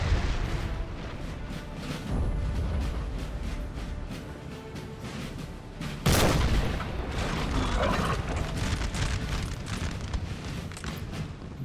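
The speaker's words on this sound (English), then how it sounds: "French has the artillery deployed." Artillery booming in a Napoleonic battle in Napoleon: Total War, with dense overlapping cannon fire and a louder blast near the middle rolling over a continuous din of battlefield noise.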